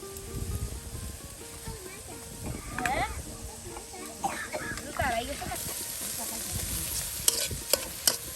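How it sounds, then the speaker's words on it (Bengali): Chopped onions fry in pangas fish oil in a village kitchen, a steady sizzle with occasional stirring scrapes, while voices talk faintly in the background. "পাঙ্গাস মাছের তেল দিয়ে কিন্তু আপনার এই যে পেঁয়াজ কুচিগুলো আপনার ভেজে নেওয়া হচ্ছে"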